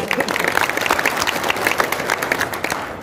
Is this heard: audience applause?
yes